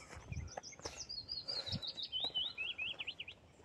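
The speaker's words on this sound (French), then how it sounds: "Si on entend bien les oiseaux, les bruits environnants." Birds chirping outdoors on an open plateau in spring, a run of rapid high tweets and trills that carries on steadily and fairly close, with soft ambient noise and a few faint knocks beneath.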